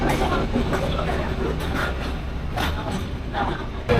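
A train rumbles past close by in Hanoi, Vietnam, a loud continuous roar with rhythmic rattling of wheels and cars.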